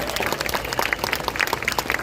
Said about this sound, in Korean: 한 번 더 큰 박수 드려야 되겠죠